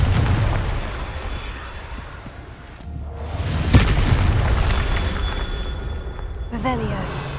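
A Confringo spell in Hogwarts Legacy lets off a single booming explosion that rises out of a dense, rumbling game backdrop, then leaves low-level ambience behind it.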